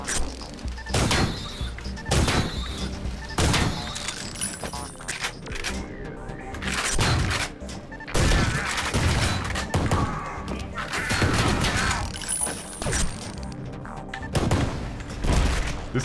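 Rapid gunfire from a weapon in the first-person shooter Ion Fury, loud bursts of shots and heavy thumps recurring throughout over a busy game soundtrack, with occasional brief talk.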